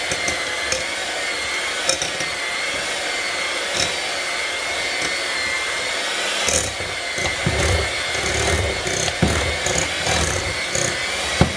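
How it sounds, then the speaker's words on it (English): An electric mixer whirs steadily, close and fairly loud, while mixing mashed potato salad, with occasional clatter of beaters against the bowl throughout. "Take our mixer, it's going to get a little loud"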